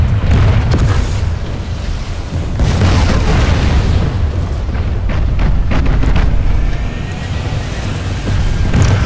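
Tank cannon blasts and explosions in the sci-fi shooter Planetside 2, heavy booming impacts rolling one after another at loud, sustained level with deep rumble throughout.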